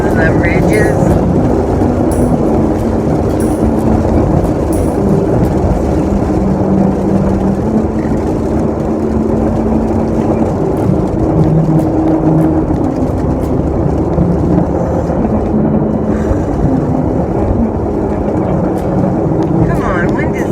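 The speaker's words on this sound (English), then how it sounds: "My car is wobbling because of the ridges." A car drives over milled road ridges where the surface was ground down before new asphalt, a constant loud rumbling road and engine drone with wobbling hum, under a driver's speech.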